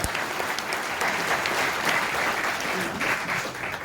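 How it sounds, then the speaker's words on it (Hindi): An indoor crowd at a YouTube creator summit event in Delhi gives loud, dense applause for the guests, steady from start to finish with no pauses. "तो ये जोरदार तालियां इनके लिए एक बार"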